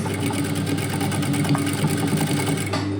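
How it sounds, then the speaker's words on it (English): A sewing machine stitches a fabric mask with bias tape, its needle clattering in a fast steady rhythm beneath a constant motor hum, close and continuous. "So let's fix this with a couple of stitches at the machine."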